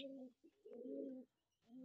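Soft, low pigeon cooing in a few throaty phrases with brief pauses between, close and fairly quiet.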